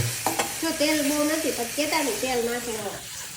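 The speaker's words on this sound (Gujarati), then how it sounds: "હાલા સાણથી બધું મિક્સ કરી નાખ" Food fried in a little oil is stirred and mixed in a pan with a spatula, soft scraping and sizzling close by under a person speaking.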